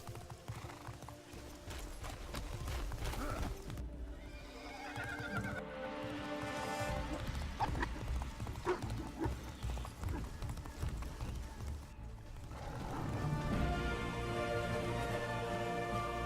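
Horse in Castlevania: Lords of Shadow, whinnying and clip-clopping its hooves amid a busy game soundtrack, fairly faint and mixed with music and a voice speaking.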